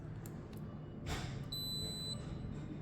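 A short, high electronic beep sounds from an HDR/HDX unit being switched on after a click, holding briefly over a quiet room background.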